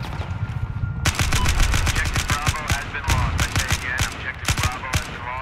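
Rapid bursts of automatic gunfire crackle through a Battlefield 4 multiplayer battle, loud sharp shots in quick rhythmic strings with short pauses, mixed with distant battle noise and occasional talk.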